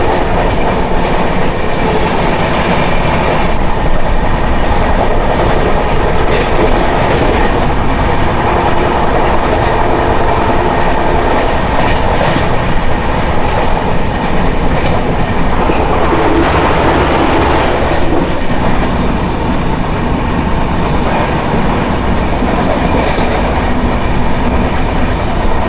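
Tirumala Express passenger train (18522, Guntakal to Visakhapatnam) running on rails, a loud continuous roar with rhythmic clickety-clack of wheels and occasional squeal, heard close from inside the moving train without talk.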